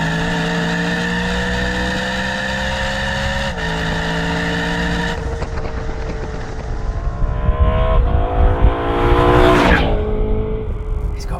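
A high-revving car engine that revs to 8,500 RPM screams close and loud, climbing through the revs with a hard-edged tone, then shifting and pulling again as it accelerates, with no talk over it.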